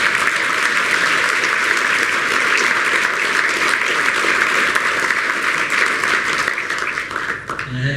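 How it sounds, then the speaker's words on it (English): A large audience at a university inaugural lecture gives a dense, sustained round of applause, loud and steady for several seconds before it starts to thin out at the end. "I want to give him a round of applause."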